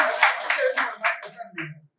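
An audience at a Tamil book event claps for an author in a few strong, rhythmic bursts that quickly fade out, with a voice heard faintly as it ends.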